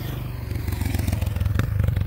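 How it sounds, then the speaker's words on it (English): A motorcycle passes on a coastal road near the Seven Sisters cliffs, a close, loud engine drone with a rhythmic pulsing throb rising briefly, plus light clattering. "Cracking bikes that are out today."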